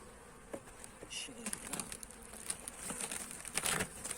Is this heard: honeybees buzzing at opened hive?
yes